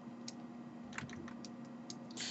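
Typing on a computer keyboard, with bracket keys pressed during photo editing: a few scattered, light clicks at close range over a faint steady hum, no voices.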